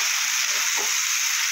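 Fried potatoes drop into a pan of spiced beans for a cabbage dish, setting off a loud, steady, close sizzle that holds throughout with no break and no talk.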